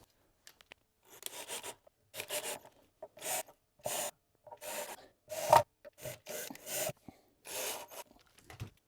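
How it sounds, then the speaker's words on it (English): Screws being driven by hand into a guitar pickguard on a Telecaster build, heard as a series of short, close rasping twists separated by brief pauses. "Pickguard is in, so now we can tack it down with our screws."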